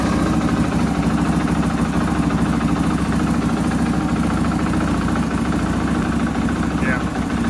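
A stock 2023 KTM 500 EXC-F dual sport motorcycle with about 1200 miles runs at a steady, loud, even drone close to the microphone, with no change in revs across the whole stretch.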